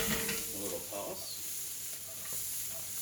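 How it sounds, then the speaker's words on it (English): Food tossed in a hot pan for a taco bar, a burst of scraping and rattling at the start that settles into a steady close sizzle. "I'm going to go ahead and give these a little toss."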